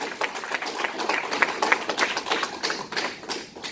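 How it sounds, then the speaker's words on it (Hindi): An audience at a business training seminar claps, a dense patter of many hands applauding steadily for a few seconds at moderate distance. "ताली तो सबने बजाया"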